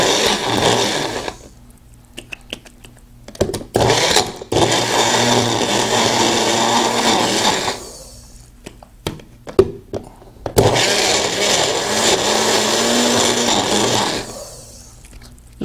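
A Magic Bullet blender whirring as it mixes in its mug, loud motor runs in several bursts of a few seconds each, broken by pauses with clunks and rattles of the cup being handled.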